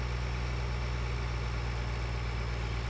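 A tractor engine in the Farming Simulator 2013 video game, a slow machine topping out around 30 km/h, drones in a steady, unchanging low rumble with a constant mechanical hum throughout.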